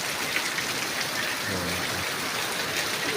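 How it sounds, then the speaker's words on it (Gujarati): Heavy monsoon rain pouring on a cabbage farm field in a Gujarati village, a dense, loud, continuous downpour hiss with a faint voice briefly underneath. "વરસાદ ખૂબ વરસે છે।"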